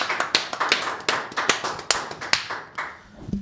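A small studio audience claps to welcome a guest on a basketball talk show, giving a run of sharp, close claps that thin out at the end.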